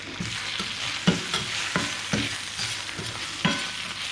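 Food fries in a pan for a vegan ratatouille with a steady close sizzle, punctuated by several sharp, evenly spaced clacks and scrapes of a utensil stirring.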